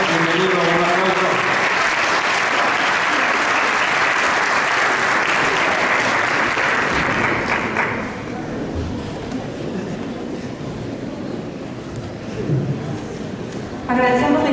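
An audience at a forum on Ecuador's energy crisis applauds to welcome a veteran CONAIE leader, dense sustained clapping for about eight seconds that thins into murmuring room noise before speech returns.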